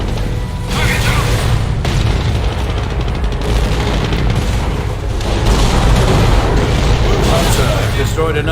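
Mortar barrage explosions in the World War II strategy game Company of Heroes boom heavily amid continuous loud battle noise and scattered gunfire, with voices under the din.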